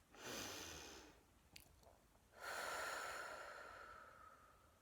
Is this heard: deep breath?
yes